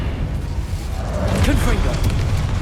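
The Incendio fire spell cast in the video game Hogwarts Legacy, a booming, crackling burst of flame that builds midway and rumbles on under a talking voice.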